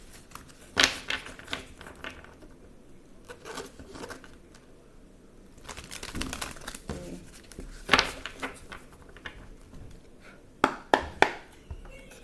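Quick papery riffles and taps come in short bursts, separated by pauses, as a deck of tarot cards is shuffled close by.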